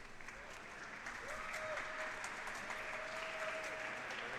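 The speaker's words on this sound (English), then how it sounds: "Max starts, there's a bit of an applause." Applause from an audience at a Rubik's cube speedcubing competition, the national championship, comes as steady, moderately distant clapping that lasts throughout. A faint tonal beep sounds beneath it.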